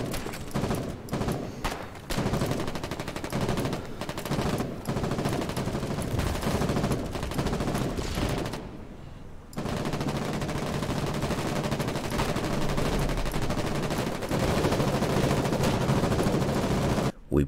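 Heavy machine gun fire from a large MG in the war game Foxhole, during a battle at a dam: loud, sustained bursts of rapid shots with a brief pause near the middle, amid distant battlefield gunfire.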